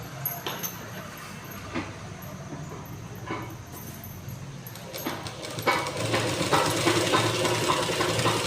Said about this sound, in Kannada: ನಾನು ಕರೆಕ್ಟಾಗಿ ಸೆಂಟ್ರಿಗೆ ಒಂದು ಹೊಲಿಗೆ ಹಾಕ್ತಾಯಿದ್ದೀನಿ. ಸ್ಲೀವ್ಸ್ನ ಸೆಂಟ್ರ್ ಭಾಗಕ್ಕೆ ಹೊಲಿಗೆ ಹಾಕ್ತಾಯಿದ್ದೀನಿ